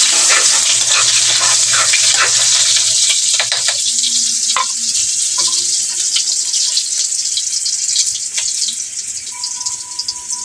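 Garlic and onion fry in a pan with a bright, continuous sizzle, loud and close, punctuated by faint clinks and stirring noises, with no talking.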